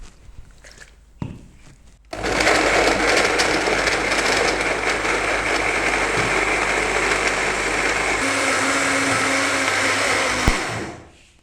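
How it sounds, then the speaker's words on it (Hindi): A blender grinds dates with a splash of milk into a paste: a loud, steady motor whir runs about nine seconds, shifts tone briefly near the end, then cuts off. "अब हम इसको ग्राइंड कर लेंगे।"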